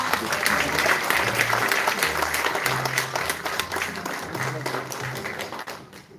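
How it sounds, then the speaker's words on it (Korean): An audience at a live-streamed cultural event in Seongsu applauds a guest being welcomed to the stage, with dense clapping that starts loud and gradually fades. A low hum sits underneath. "큰 박수 부탁드립니다"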